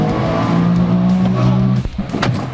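A 300 hp Seabreacher shark-shaped boat accelerates on throttle, its engine a loud, close, sustained drone that rises in pitch before breaking into rougher, choppy noise near the end.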